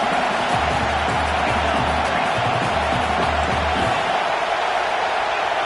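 A stadium crowd roars continuously in a College Football 25 game, a dense, loud wash of cheering with a low pulsing rumble underneath through most of it.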